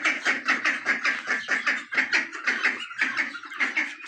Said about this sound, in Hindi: ये है हमारी डकी जिन्होंने बहुत गंद और शोर किया हुआ है